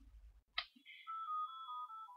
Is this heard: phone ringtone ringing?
yes